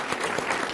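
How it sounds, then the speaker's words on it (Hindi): Studio audience applause on a televised debate, a steady, even wash of many hands clapping at moderate level with no pauses. "ताली बजा दीजिए इनके लिए"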